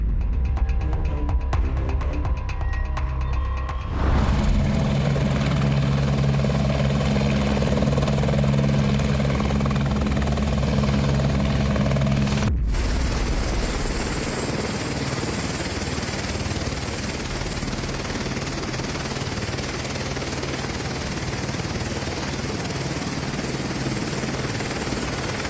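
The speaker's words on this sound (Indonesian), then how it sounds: "harus menggunakan helikopter" A helicopter evacuates the bodies of climbers from Carstensz Pyramid in Papua, its rotor and engine roar loud and continuous, shifting abruptly in tone partway through as if heard from different positions.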